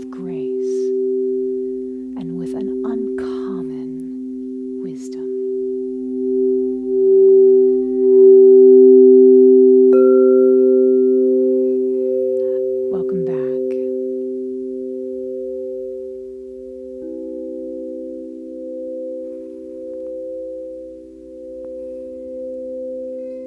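Crystal singing bowls tuned to 432 Hz ring in long, pure, overlapping tones that swell and slowly beat, a new bowl joining partway through, with a few soft strikes and rubs and no talking.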